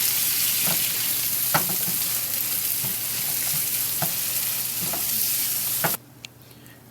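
Large shrimp sizzling in a pan with butter and romesco sauce, a steady bright crackling hiss with occasional stirring taps, cutting off abruptly near the end to near silence.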